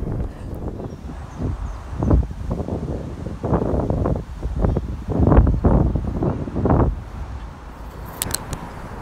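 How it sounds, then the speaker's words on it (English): Strong gusts buffet a microphone outdoors beside a busy main road in North Harbour, Portsmouth, loud uneven rumbling bursts that swell and fade, with faint traffic noise beneath. "And excuse the noise and the fact that it's very windy,"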